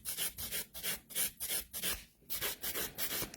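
A nail file scrapes back and forth over sculpted gel nails in quick, regular rasping strokes, close and fairly loud, with brief pauses between bursts and no talking.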